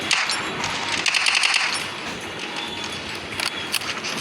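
Rapid automatic gunfire from a Free Fire/Roblox-style shooter video game, with dense crackling bursts steady across the clip and no talk over it.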